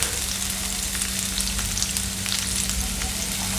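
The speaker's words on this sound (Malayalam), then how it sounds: "വെളിച്ചെണ്ണ ചൂടായി വരുമ്പോൾ നമുക്കൊരു 10 കുഞ്ഞുള്ളി ചെറുതാക്കി കട്ട് ചെയ്തിട്ട് ഇട്ട് കൊടുക്കാം." Chopped shallots fry in hot coconut oil for a few seconds, making a dense, even sizzle close by with a low steady hum beneath it. No one speaks.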